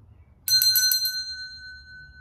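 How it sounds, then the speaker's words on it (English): A small bell rung once for clearing energy, with a bright, close strike that sounds briefly and then rings on with a long, fading shimmer in a quiet room. "I'm going to clear the air, clear the energy with this bell really quick"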